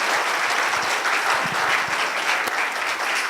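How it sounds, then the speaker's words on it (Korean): Audience applause after a professor's lecture at a symposium, a steady dense clapping from a large crowd that holds loud and even throughout. "수고해 주신 교수님께 큰 박수 부탁드리겠습니다"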